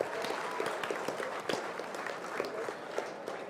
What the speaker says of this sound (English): let's go ahead and give our judge a round of applause for being with us this evening